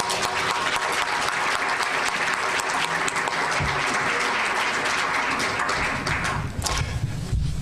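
Sustained audience applause at a Bancroft Library centennial symposium on ancient Egypt at Berkeley, dense steady clapping from a large room that holds full for about seven seconds, then begins to thin and fade at the end.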